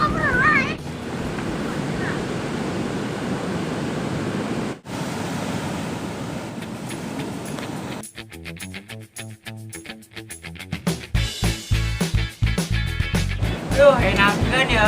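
Ocean waves rolling onto a hot tropical beach, a steady broad wash of surf, loud and close, later broken up by choppy bursts, with people talking over it.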